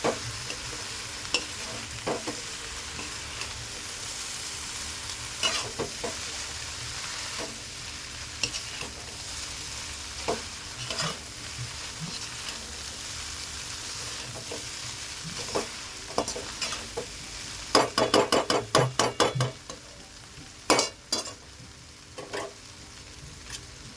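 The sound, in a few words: frying chowmein noodles in a pan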